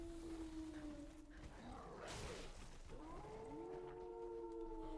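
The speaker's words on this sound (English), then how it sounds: "It's like heat-seeking missiles, these dogs." Dogs in the video game Dark Souls III give drawn-out whining howls and yelps over a steady game background, moderately close, with a burst of noise in the middle.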